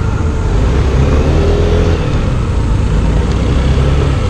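A Sym Tuscany 150 Classic scooter accelerates on a test ride, a loud, close engine drone mixed with heavy wind rush that stays constant throughout.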